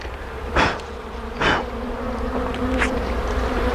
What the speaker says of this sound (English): There is bees in here.